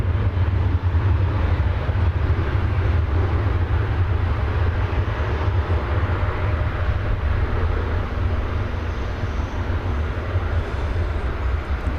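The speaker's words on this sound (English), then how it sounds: "Now there's a plane taking off for Puerto Vallarta." A steady, far-off rumble and roar from an American Airlines 737-800 taking off at DFW Airport for Puerto Vallarta, a continuous low drone with broadband hiss that stays level with no voices.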